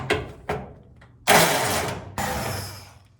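A power driver spins out 5/16 screws from a Speed Queen commercial dryer, with short whirring bursts and then two longer grinding runs, loud and close with no voices.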